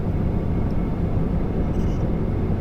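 Airplane engine roaring during takeoff in the VRChat game, a loud, steady, dense drone that holds without break, with no talking.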